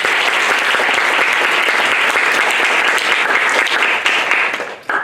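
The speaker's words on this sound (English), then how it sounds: "please give a round of applause for our first lecturer, Evan Anthony." Lecture audience applauding a lecturer at a design lecture series, a dense, steady wash of many hands clapping at close range that holds for about five seconds before tapering off at the end.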